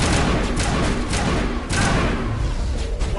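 Rapid assault rifle fire in the video game Mass Effect, a dense, continuous burst of loud shots with heavy thumps running the whole stretch and a brief dip midway.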